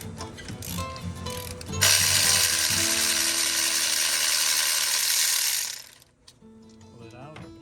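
Socket ratchet clicking rapidly and steadily while loosening a spark plug on a 2015 Ford Explorer, close and loud for several seconds before stopping into quieter handling.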